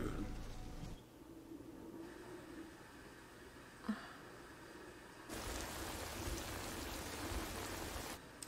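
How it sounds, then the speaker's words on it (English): Steady rain falls at night in a wartime jungle on Guadalcanal, a broad hiss of drops that swells louder partway through, with no speech over it. "And then it rains at nighttime."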